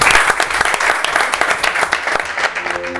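Lively clapping from a small studio audience on a cooking show, close and uneven with distinct individual claps, trailing off near the end as a faint musical tone enters.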